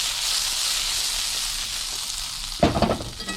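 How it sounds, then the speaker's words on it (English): Peppers frying in duck fat give a steady, close sizzle throughout, with a louder burst of crackling and stirring near the end. "listen to how it's sizzling to know how fast"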